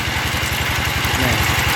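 A very small engine drives a well-drilling rig at a borehole site, running at a steady fast idle with a close, loud, rhythmic thrum throughout.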